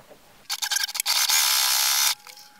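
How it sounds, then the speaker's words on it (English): A sewing machine stitches the folded edge of a fabric wallet in a short whirring burst: a few stuttering starts, then a steady mechanical run of about a second before stopping. "now I'm going to stitch down the folded"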